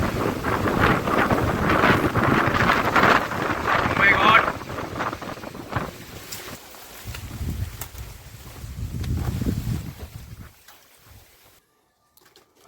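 Strong gusts blow through a banana plantation, buffeting the microphone with heavy rumbling roars that rise and fade in waves, while voices speak now and then underneath before the wind drops away.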